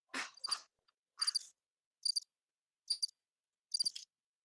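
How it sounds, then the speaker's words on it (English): Crickets chirp in short, evenly spaced bursts against near silence, fairly faint and alone with no voices. "Hey, crickets, hold on. Crickets."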